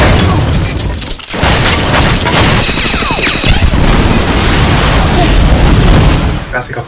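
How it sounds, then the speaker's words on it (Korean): Gas explosion during a movie fight scene between a married couple, a sudden loud boom followed by sustained crashing, shattering debris and roaring noise filling the scene. "가스가 폭발함에 따라 제인의 정신이 혼미해진 이때"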